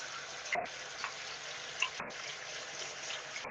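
Steady, close sizzling hiss with a couple of brief dips and small pops, continuous throughout without talk.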